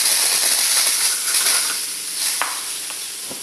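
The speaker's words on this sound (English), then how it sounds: "safety valve is hissing steam" Safety valve on a model steam locomotive, the SEL Junior 1530 on its first steaming, releasing steam in a loud, steady, close hiss that eases slightly toward the end, with no talk.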